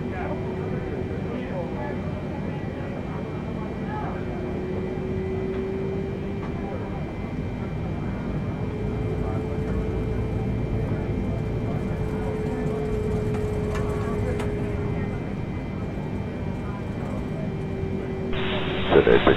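A Boeing 747 taxiing at Incheon Airport, giving a steady low engine rumble with a faint tonal whine throughout, under continuous radio chatter from air traffic control.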